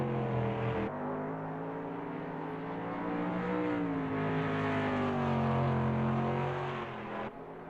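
GT3 race cars, AMGs and Porsches, race in a video game at a Japan round, their engines a continuous loud drone that rises and falls in pitch as they accelerate and shift, with no talking.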